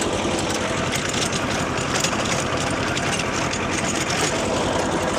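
Swaraj tractor driving a PTO-powered rotavator at full 1400 RPM through farm soil, a steady close engine drone with constant churning rattle, loud and unbroken throughout.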